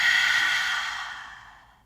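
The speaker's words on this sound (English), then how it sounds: "Exhale deeply." A single deep exhale during yoga breathing practice, a long airy breath out that starts strong and close, then fades steadily to quiet over about two seconds.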